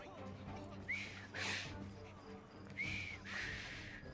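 A character in Assassin's Creed Syndicate whistles in two rising, clear tones, each a short pair of notes about a second apart, fairly faint against the game's background ambience.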